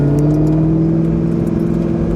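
A 2006 Ford GT under acceleration, its supercharger giving a sustained high whine layered over a strong, steady engine roar heard up close from the cabin.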